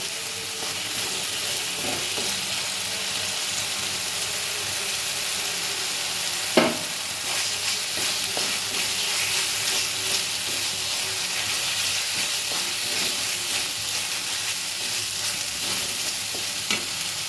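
Ginger frying in a pan for a shukto tempering gives off a steady, close sizzling hiss, with occasional scrapes and taps of stirring.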